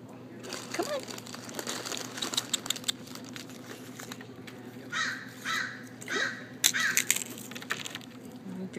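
Crows caw several times at moderate distance while being fed at an outdoor lunch table at Hearst Castle, mixed with crinkling food wrappers and occasional talk nearby.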